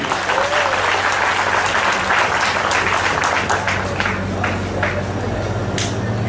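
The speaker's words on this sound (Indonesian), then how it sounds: "Tepuk tangan dulu." An audience at a Christmas celebration in a Surabaya detention centre breaks into loud sustained applause, dense clapping from a crowd filling the space with a few scattered sharper claps and voices near the end.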